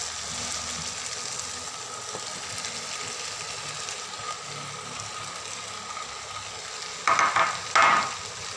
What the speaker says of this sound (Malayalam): ഇനി നമുക്കൊന്ന് ഇളക്കാം.